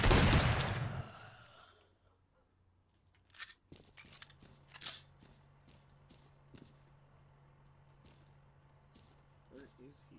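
Gunfire in S.T.A.L.K.E.R.: Clear Sky cracks out as a series of sharp, scattered shots and short bursts after a loud opening rush of noise, over a low steady hum.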